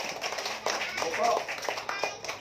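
A church congregation claps during a Filipino Catholic service, scattered applause mixed with voices and some taps, fairly close and moderately loud.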